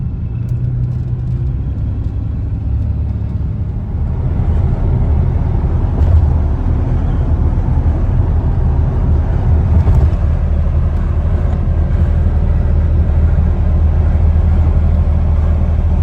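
A 1995 Chevy S10 pickup cruising on Interstate 43 through Milwaukee traffic, its steady low engine and road rumble filling the cab continuously with a slight swell partway through.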